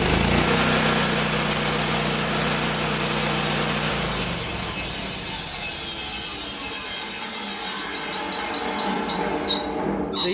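A loud sawmill blade bites into wood with a continuous harsh roar, shifting into a thinner squealing rub as the cut goes on, close and without voices.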